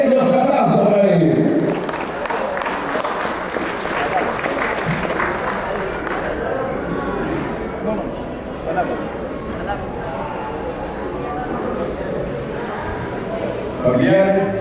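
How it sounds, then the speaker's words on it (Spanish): Wedding guests applaud after a fuerte call for applause at a marriage celebration: a dense, steady clapping wash that lasts around twelve seconds, with a loud voice briefly at the start and again at the end. "solicito fuerte los aplausos para él"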